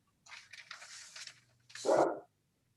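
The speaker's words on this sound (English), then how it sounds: "And my dog has chosen now to start to bark." A pet dog barks indoors during a remote zoning board meeting, with a couple of muffled yips followed by one louder, fuller bark, close to the microphone and then silence.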